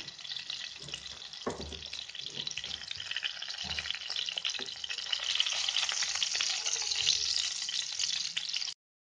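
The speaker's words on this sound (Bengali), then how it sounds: "এইভাবে করে বাকি মাছগুলো আমি ভেজে নেবো" Steady hiss of rupchanda (pomfret) fish frying in hot oil, crackling throughout with a few soft clinks and scrapes, close and fairly loud, no talking.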